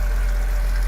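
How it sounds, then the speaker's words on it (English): A Mercedes-AMG C43 engine runs with a steady, deep, close idle hum for a brief moment. "We have a simply amazing engine here."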